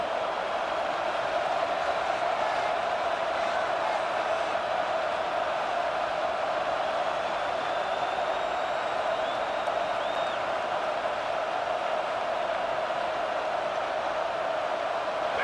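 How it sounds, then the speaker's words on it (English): A stadium crowd in the EA Sports College Football 26 video game roars steadily throughout: a constant, dense wash of cheering with no pauses and no clear voices above it. "with this place rocking, the crowd forces a false start"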